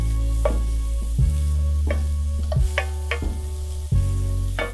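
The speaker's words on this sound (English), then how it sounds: "put the onions in, let them sweat for a few minutes" Onions sweating in olive oil in a pan over very low heat give a soft, constant sizzle, broken by a few close scraping stirs with a utensil against the pan.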